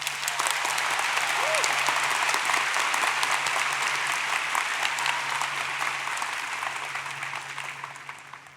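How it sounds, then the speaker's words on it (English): A large audience at a university business school undergraduate convocation applauds a newly introduced dean, a loud, sustained roar of clapping that gradually fades toward the end. "Let us give her, Dean Fournier, a round of applause."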